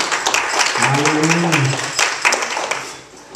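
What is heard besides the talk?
congregation clapping hands in praise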